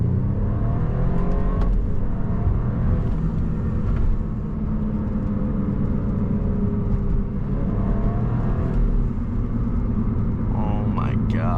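A new car drives past with loud, rumbling engine noise and swells of acceleration, close and continuous, with a few quieter dips between passes.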